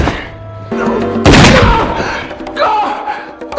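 A gunshot in a dramatic film scene, a sudden loud broadband blast after a stretch of tense score and dialogue, ringing out briefly before quieter music and voices resume.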